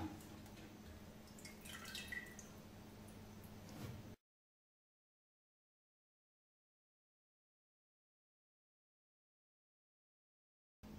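Water trickles and drips off waterproof cool white decorative string lights as they are lifted out of water, a steady patter for a few seconds before the sound cuts to silence.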